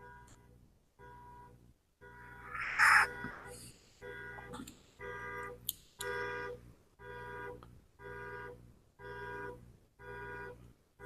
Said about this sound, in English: I hope the guy who owned this car will stop the alarm.